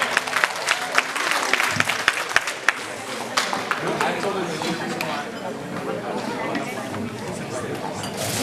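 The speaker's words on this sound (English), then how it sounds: "For his closing remarks, let's give a big round of applause to Mr. Froilan Mejia Sr." Audience applause fills a town fiesta hall of a Southern California hometown association, dense clapping near and loud from the start, with crowd chatter mixed in and slowly settling into a steadier patter.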